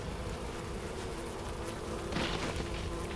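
Buzzing swarm of bees in the video game Far Cry Primal, a steady dense drone filling the scene, swelling slightly louder toward the end with no voices.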